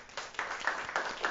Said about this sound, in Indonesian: Bagi tepukan untuk Shalini.